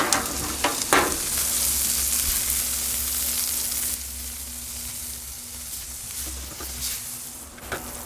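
Oklahoma smashburgers sizzle loudly on a Blackstone griddle, a dense close frying hiss with a few spatula scrapes and taps near the start and end.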